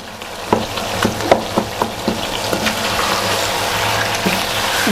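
Chicken fries in a pan toward golden brown for a tomato karahi, a constant close sizzle punctuated by a regular series of sharp clicks and taps from stirring, with no voices.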